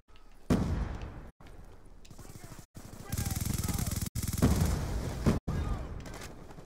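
Grenade blast and gunfire in Black Ops 2, a loud booming explosion followed by rattling bursts of shots and battle noise, broken by several abrupt cuts, with in-game voices calling out over the action.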